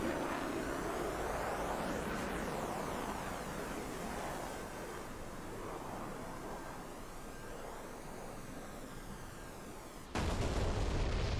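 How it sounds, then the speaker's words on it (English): Unguided bombs from an F-16C explode on target in the DCS flight simulator. The result is a dense, continuous roaring rumble that swells louder near the end. "let's see what these bombs do on target"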